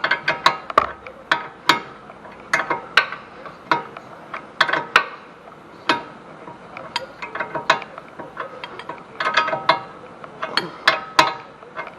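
A wrench tightens a nut on a Ford Taurus front axle hub during a passenger-side axle and hub replacement. It gives a long series of sharp metallic clicks and clanks in uneven bursts, close up, with no talk.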